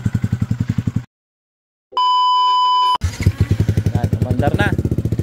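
A Yamaha Sniper 155R motorcycle engine pulses loudly and rhythmically, cuts out, then a steady electronic beep sounds before the engine starts again and runs with an uneven, rising putter.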